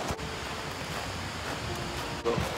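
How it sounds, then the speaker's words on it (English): Water rushes beneath a sheet of ice at a frozen waterfall in winter, a steady broadband roar close by, continuous for the whole stretch with a brief dip near the end. "the water is rushing under that sheet of ice there"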